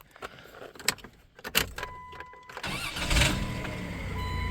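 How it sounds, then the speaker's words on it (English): Starter motor on a 1993 Dodge Caravan cranking the engine, a few uneven bursts at first and then a steadier spinning whir after about two and a half seconds, close and fairly loud, with keys jangling. "You can really hear that starter now. That new starter, it's a lot better."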